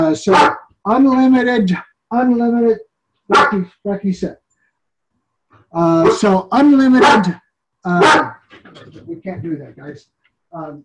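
A pet dog barks in short bursts at a house, loud and close, interleaved with people talking over it.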